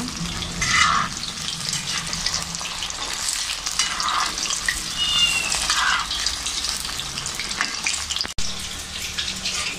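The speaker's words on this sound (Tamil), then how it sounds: "ரெண்டு ரெண்டு பீஸை வந்து போட்டு நல்லா மொறு மொறு பொடிச்சு எடுத்துக்கலாம்" Chicken lollipop pieces deep-frying in hot oil until crispy, a steady close sizzle and bubbling crackle that runs the whole time with small stirring shifts.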